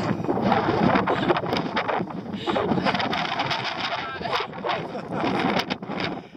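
Strong wind buffets the microphone on the summit of Telescope Peak in Death Valley, a loud, continuous roar with gusty surges that fill the whole clip.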